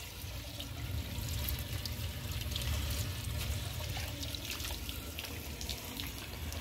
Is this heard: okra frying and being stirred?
no